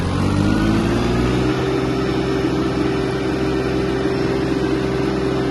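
An Iseki Sial 193 Japanese mini tractor engine runs steadily while accelerating to top speed, a continuous droning hum with a rising tone early on, close and even throughout with no talking.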